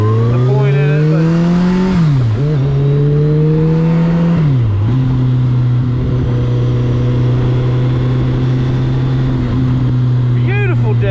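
A Kawasaki Concours 14 motorcycle rides along with a loud, close engine drone that climbs in pitch through the gears, dipping at two quick shifts before settling into a steady cruising hum with wind noise.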